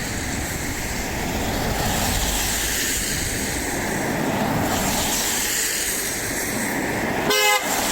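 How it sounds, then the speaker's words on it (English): A Mercedes car horn toots once, a short harmonic honk near the end, over steady background street and traffic noise at a roundabout. "Thank you for the honk."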